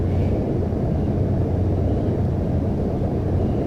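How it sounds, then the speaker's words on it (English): A Boeing airliner comes in to land in the Microsoft Flight Simulator X game. A steady, heavy engine rumble holds at an even level throughout. "There's a Boeing coming in."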